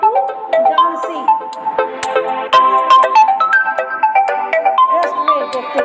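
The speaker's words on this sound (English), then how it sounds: "Just wait, देखते हैं किसका phone है." A phone plays a bright melodic ringtone for an incoming WhatsApp call, repeating chiming notes loudly and steadily throughout, with faint talk underneath.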